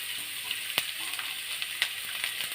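Chopped carrots sizzle and crackle in hot oil in a pan, a soft continuous frying hiss with a few sharp pops, no voices.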